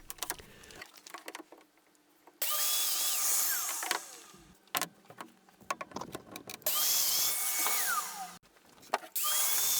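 Domino joiner cutting mortises into stacked wood sections for a large cabinet, a high whining motor rising in loud bursts for each plunge cut, separated by quieter handling gaps, close up.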